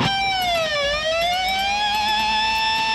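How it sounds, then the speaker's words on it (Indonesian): Electric guitar harmonic bent with a whammy bar: a bright sustained harmonic tone that dips in pitch and then rises back, ringing steadily and loud on its own for about three seconds. "bunyi harmonik ini jika kita tarik atau dorong maka bunyinya seperti ini"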